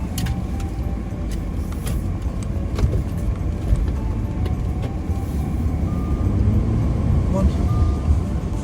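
Car engine and road noise nearby, a steady low rumble of motor vehicle traffic filling the whole stretch, loud and close, with a person talking over it.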